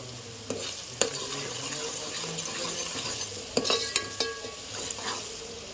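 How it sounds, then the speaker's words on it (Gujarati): Onions sautéing in masala over a fast flame, a soft steady sizzle broken by several sharp clinks and scrapes of a spoon stirring in the pan. "ડુંગળી સેજ સતળાઈ ફ્લેમ થોડી ફાસ્ટ રાખવાની છે"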